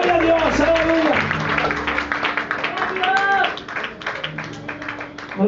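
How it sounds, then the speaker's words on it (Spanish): Church congregation at an apostolic church in Piedras Negras, Coahuila, applauding in praise, clapping under a preacher's amplified voice and vocal exclamations, with the applause fading toward the end. "Denle su alabanza, su aplauso para Él."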